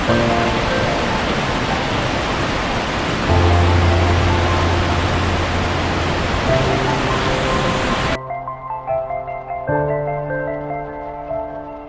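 Taughannock Falls, a big waterfall in an icy gorge, roars as a loud continuous broadband rush of falling water for about eight seconds, then cuts to a quieter, tonal passage with the water fading.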